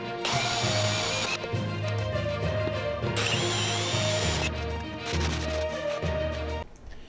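A power drill bores holes into a wooden adjustable-height workbench, whining loudly in long sustained runs with brief pauses and pitch shifts as the bit bites, close up with no talk.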